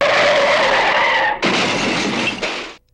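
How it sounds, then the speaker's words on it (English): A car skids with a loud, drawn-out tire screech, then slams into a power pole in a burst of crashing noise that quickly fades to silence. "you've hit a power pole and power lines are down"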